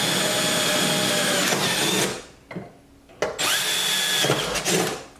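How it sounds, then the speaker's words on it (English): A power drill bores through the tub of a C8 Corvette, a loud sustained whine that cuts off and restarts in short bursts near the end, close up and without speech. "you can take your drill bit again, and you can go ahead and drill through the tub here."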